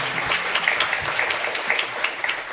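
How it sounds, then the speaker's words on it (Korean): An audience at a student forum debate on scholarship use claps steadily and fairly loudly, a dense patter of many hands sustained throughout. "박수 한번 주시죠"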